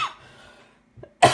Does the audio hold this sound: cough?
yes